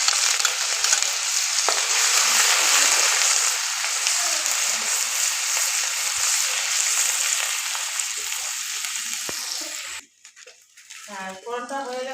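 Ginger and ground cumin sizzle loudly in hot oil for a tempering, a dense steady crackle that fades slightly before cutting off, followed by brief indistinct voices.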